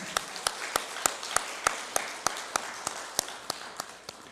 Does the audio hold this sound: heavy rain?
no